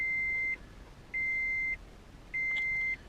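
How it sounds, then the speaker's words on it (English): Three steady electronic beeps from a Toyota car's warning, each about half a second long, repeating at an even pace with short gaps, clear and close over quiet background. "we'll give the Toyota a second there to quit beeping"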